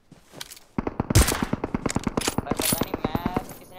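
Rapid gunfire in a PUBG-style shooter video game, a sustained burst of sharp, evenly spaced automatic shots after a brief opening shot, loud and close.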